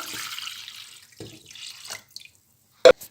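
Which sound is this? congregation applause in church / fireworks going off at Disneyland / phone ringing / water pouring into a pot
water pouring into a pot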